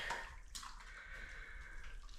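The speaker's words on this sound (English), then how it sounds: "You're gonna put a little bit of water in it at a time." Water poured from a container into a bucket of drywall joint compound, a steady close splashing trickle that runs unbroken for a couple of seconds.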